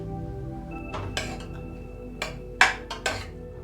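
A few metallic clinks and a clatter as a lid is set onto a cooking pot of aloo, beans and tomato curry on low flame, with faint kitchen hum behind.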